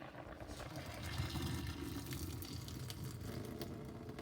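Water runs steadily from a tap, a continuous splashing hiss that carries on throughout, fairly quiet and close.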